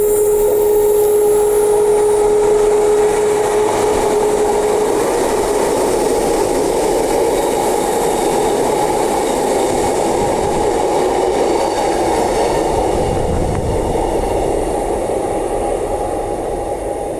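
Passenger train 124 to Claremont rumbles loudly and steadily along platform 2 at Bayswater Station, with a sustained tone at the start fading into continuous wheel and engine noise and no voices.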